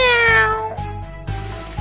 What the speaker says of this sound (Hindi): अरे ये बिल्ली क्या कर रही है यहाँ?